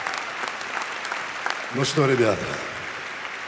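Concert audience applauding at a live show, a dense steady clatter of clapping throughout while someone speaks over it in Russian.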